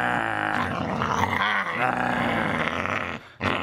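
A pit bull growls playfully in a continuous, rough, throaty rumble lasting several seconds, close and loud, breaking off briefly near the end before resuming.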